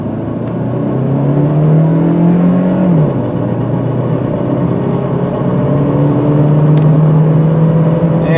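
A black 2005 Subaru Outback AWD with a 2.5 liter four-cylinder accelerates from inside the cabin, the engine note rising, dropping at a gear shift, then climbing again under steady road and tire noise.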